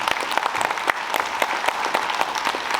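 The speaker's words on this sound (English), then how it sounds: "Let's congratulate a big round of applause, please." An audience applauds at a book launch, with dense, steady clapping that stays fairly loud and continuous throughout and has no speech over it.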